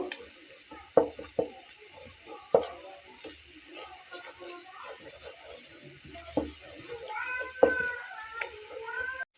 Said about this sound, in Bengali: ডিমটা একটু হলেই এটাকে এইভাবে ঘুঁটে দিয়ে কুচি কুচি করে নেব